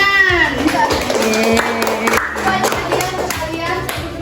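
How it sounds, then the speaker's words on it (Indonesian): Children in a classroom clap their hands together in a quick burst of applause, close and lively, with a voice briefly heard under the clapping. "Tepuk tangan."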